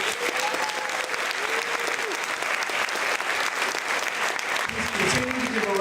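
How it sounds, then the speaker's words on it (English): Audience at a high school academic awards ceremony applauds senior class top students, a dense, sustained burst of clapping filling the hall, with brief voices near the end. "Continue to give a round of applause for this year's top 10 of your senior class."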